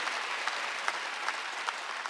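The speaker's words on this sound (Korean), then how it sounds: "박수하세요." A church congregation claps together during a Wednesday worship service, a dense, even wash of applause from a sizable crowd lasting a couple of seconds.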